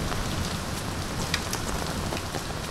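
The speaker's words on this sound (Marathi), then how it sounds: "ह्या पाऊस आला, वादळ आला" Heavy monsoon rain in a Maharashtra storm drums in a steady, dense wash of drops on nearby surfaces, with no voices.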